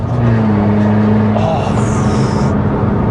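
A used hot hatch, one of a Ford Fiesta ST150, Renault Clio 182 or Skoda Fabia vRS, accelerates hard with a steady loud engine drone from inside the cabin, cutting out briefly as it hits the rev limiter around 4,500 rpm.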